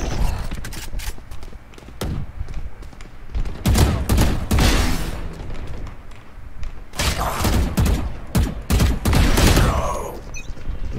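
Rapid bursts of Vandal rifle fire in a Valorant match ring out loud and close, several sharp volleys separated by brief pauses, with thuds and game effects in between.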